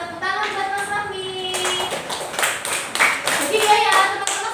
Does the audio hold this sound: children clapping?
yes